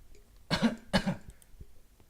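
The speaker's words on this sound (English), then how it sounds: "I collapse to my knees and cough." A video game character coughs twice in quick, harsh bursts, close and fairly loud, followed by quiet, with no speech.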